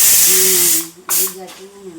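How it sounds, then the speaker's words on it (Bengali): Steam hisses loudly from a pot of boiling chickpeas, a strong continuous rush close by that cuts out abruptly, returns briefly and then fades, with voices in the background. "ছোলা সিদ্ধ হচ্ছে"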